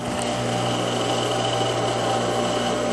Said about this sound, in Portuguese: Então eu vou passar lá na overlock e já venho aqui para costurar essa partezinha.